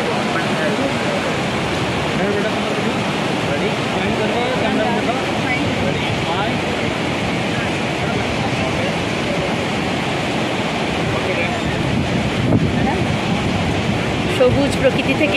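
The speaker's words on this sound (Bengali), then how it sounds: "সবুজ প্রকৃতি থেকে এরকম শুভ্র ঝর্ণা বেরিয়ে এসেছে।" A white waterfall pouring out of green forest at Shivanasamudra Falls makes a steady, broadband roar of rushing water that stays close and constant throughout, with a faint voice briefly audible near the end.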